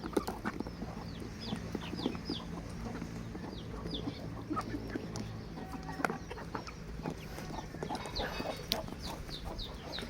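Chickens cluck steadily on a farm, with soft chick-like peeps scattered throughout over a low background murmur, continuous and moderately close.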